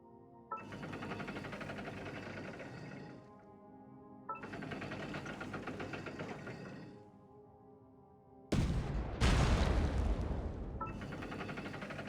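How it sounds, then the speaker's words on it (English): In Genshin Impact, a great cannon fires at ceiling rocks, producing long, dense roaring blasts in three separate bursts. The last burst is the loudest and harshest, and brief quiet gaps separate the bursts. "Use the great cannon to destroy the ceiling rocks."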